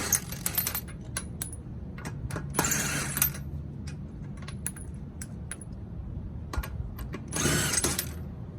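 Metallic clicks and rattles of a socket wrench being handled while lug nuts are worked on cheap aftermarket 20-inch Asanti wheels being fitted to an Infiniti Q50, in short irregular bursts, close but fairly quiet, with no talking.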